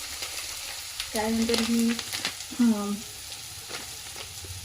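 Turmeric and spices sizzle in a pan for palak paneer, a steady frying hiss with stirring. Someone talks briefly over the sizzle.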